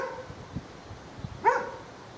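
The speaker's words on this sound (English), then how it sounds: "Can you hear it barking?" A dog on an outdoor trail gives a single short bark in the distance, faint against quiet background noise with a few soft thumps before it.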